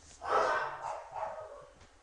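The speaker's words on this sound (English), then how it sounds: "excuse me, the dogs are barking" Dogs barking indoors at a distance, a couple of muffled, slightly drawn-out barks in quick succession, moderately loud with no talk over them.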